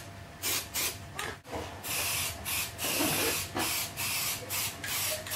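Bursts of acrylic etch primer sprayed over bare metal on a BMC Wolseley Farina 24/80 car body, a run of short and longer hissing passes with brief gaps, close and fairly steady.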